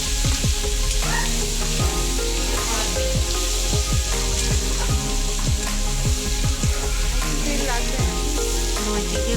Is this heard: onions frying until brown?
yes